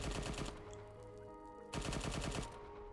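An MG turret at an enemy outpost in Arma 3 Antistasi hammers out continuous rapid-fire bursts, loud and close, easing briefly before a second intense burst.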